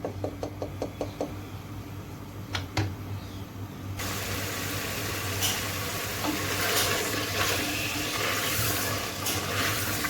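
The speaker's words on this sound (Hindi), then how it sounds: "यहाँ पे मैंने शलजम को चिकन के साथ भून लिया है" Turnips and chicken fry in a pot, with a few sharp knocks of a spoon against the rim first, then a dense loud sizzle of stirring that fills the rest, close by with no talk.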